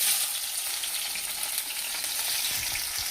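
Onions sizzle steadily in hot oil for a kacchu shaak curry, with scraping stir strokes of a spoon through the pan near the end; a continuous close frying hiss with no talking.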